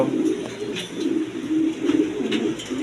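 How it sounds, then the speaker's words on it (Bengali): Pigeons coo softly and repeatedly in a low, rolling murmur, several birds overlapping close by against a steady background hum. "আরও প্রচুর পরিমাণ কবুতর আছে"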